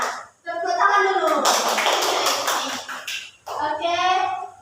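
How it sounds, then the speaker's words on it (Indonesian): Children clap their hands together in a classroom lesson, a dense burst of applause lasting a couple of seconds between stretches of an adult woman's speech. "Nah, tepuk tangan dulu"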